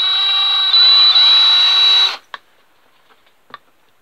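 A drill bores holes through a leather cover being fitted to a motorcycle's central top case: a loud, steady, high-pitched whine runs for about two seconds, then cuts off, followed by a few faint clicks and taps.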